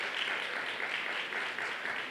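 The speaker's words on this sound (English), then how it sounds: "just a round of applause one more time for the TSU debate team" A conference audience gives the university debate team a steady round of applause, a moderately quiet, dense patter of many hands clapping evenly throughout.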